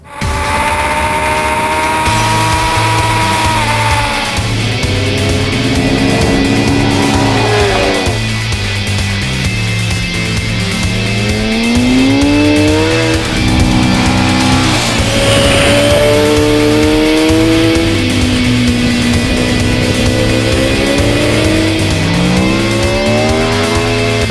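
A sports motorcycle, named Sports Bike of the Year, revs its engine at close range for a loud continuous run, with the pitch rising and falling through repeated throttle blips and no talk.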